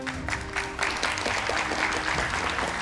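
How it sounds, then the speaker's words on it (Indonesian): Studio audience at an Indonesian political talk show applauds the guests, a sustained dense burst of clapping close to the microphones with a voice briefly audible at the start. "Tepuk tangan untuk semua narasumber saya pada malam hari ini."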